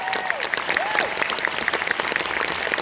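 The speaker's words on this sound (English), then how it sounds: "can we get another round of applause?" Audience applause at a TV series screening and Q&A event, a steady, dense wash of clapping from a crowd filling the room throughout, with a faint voice briefly over it.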